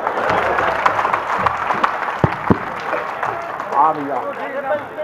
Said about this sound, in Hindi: तालियां बजाओ तो।